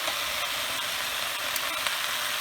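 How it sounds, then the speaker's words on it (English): Butter sizzles steadily in a pan as chicken pieces sauté for chicken cacciatore, a close, continuous bright hiss with no breaks and no talking. "And enough fat for the saute to happen, the sauteing."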